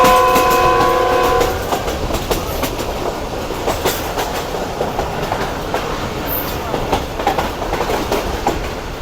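A train approaches Gujranwala railway station, opening with a loud sustained horn blast for the first second or so, then settling into a steady rumble with rhythmic clickety-clack of wheels over rail joints.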